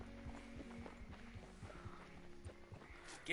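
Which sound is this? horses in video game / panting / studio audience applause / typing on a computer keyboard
horses in video game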